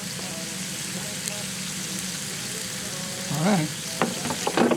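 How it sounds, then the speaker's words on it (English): A steady, dense sizzle of food frying in a pan fills the clip, joined near the end by a brief spoken remark and some clatter. "hear that sizzle?"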